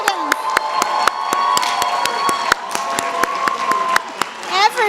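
Graduation crowd at the Columbia Engineering class day cheering and clapping for 2017 engineering graduate degree students, a dense steady roar of applause with whoops and whistles throughout, loud and close.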